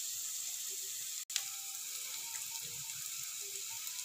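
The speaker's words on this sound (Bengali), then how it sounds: "পেঁয়াজটাকে হালকা ফ্রাই করে নেব।" Onions frying lightly in a pan with turmeric and salt for spicy egg pulao give a soft, steady sizzle throughout, with one brief dropout partway and no talking.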